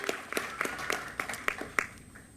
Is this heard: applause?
yes